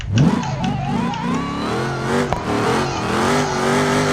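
Car engine in the driving game BeamNG.drive revving up, a loud close rising whine with a climbing pitch that holds at a high steady drone, with a brief knock midway.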